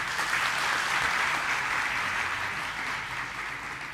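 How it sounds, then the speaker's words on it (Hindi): A seated audience at a Hindi religious sermon bursts into loud, sustained clapping that holds steady, then slowly thins toward the end. "बजाओ जोर से ताली।"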